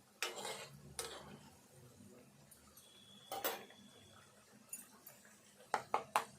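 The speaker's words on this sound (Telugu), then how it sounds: "ఈ పల్లీలు, శనగపప్పు వేగాలి కొద్దిసేపు, ఒక 3 నిమిషాలు అట్లా వేగాలి." Peanuts and chana dal being stirred in a pan while frying for Telangana pulihora, heard as scattered close scrapes and metallic clinks of a spoon against the pan, with a few sharp knocks near the end and no talking.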